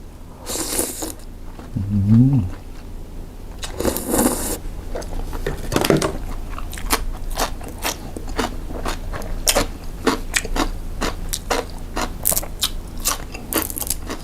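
Crunchy Thai papaya salad with rice noodles being chewed, with repeated close crisp bites and crunches at an irregular rhythm; a few other short handling clicks mixed in.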